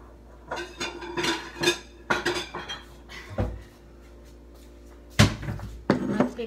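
Dishes and cutlery clink and clatter in a home kitchen as cooked spicy Korean noodles are plated, irregular bursts of sharp knocks and scrapes with quiet gaps between, close and moderately loud.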